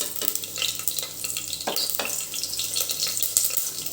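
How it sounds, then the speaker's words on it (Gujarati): Whole spices of cloves, small cinnamon pieces, a star anise, a bay leaf and green chillies drop into hot oil with crackling cumin for masoor pulao in a pressure cooker, giving a steady close sizzle with a few sharp pops. "જીરું આપણું તતડી ગયું છે તો એની અંદર આપણે આ ખડા મસાલા એડ કરી દઈશું।"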